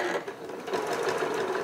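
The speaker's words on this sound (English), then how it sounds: "You're going to stitch along this line, stopping an inch from the edge." A sewing machine stitches the fabric of a hanging planter, its steady fast mechanical whir running close and alone for the whole short moment.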